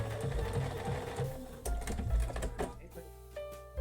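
Sewing machine stitching quilt binding, a rapid mechanical chatter of the needle with brief stops and restarts, close and fairly quiet.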